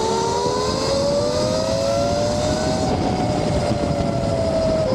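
A 72V Tuttio electric bike built for speed, around 8,000 watts, accelerating hard: a steady motor whine rises in pitch over several seconds above dense wind and road rush, close and loud with no talk.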